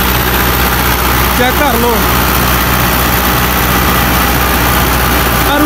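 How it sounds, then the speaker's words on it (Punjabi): A 2004 Fiat 640 tractor fitted with a 60-cutter rotavator idles close and loud, a steady low engine drone running throughout, while someone speaks briefly over it. "ਫੀਅਟ 640 ਅਤੇ ਉਹਦੇ ਨਾਲ 60 ਕਟਰ ਰੂਟਰ ਪਾਇਆ ਹੋਇਆ"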